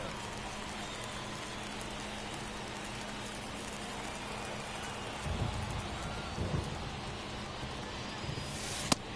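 Steady rain pours down continuously at a baseball game, a dense hiss of drops with a few low rumbles and thumps rising out of it near the end.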